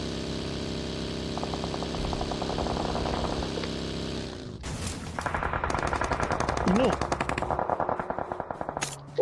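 Machine guns fire rapidly in a video game shooter, first a steady rattle over an engine hum, then louder, denser bursts of shots close up.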